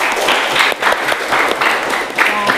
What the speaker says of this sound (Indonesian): Aplaus dulu buat kita semua.